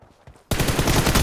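Gunfire in the PUBG Mobile video game with an M4 rifle, a quiet moment broken halfway through by a loud, sustained burst of rapid automatic shots that continues to the end.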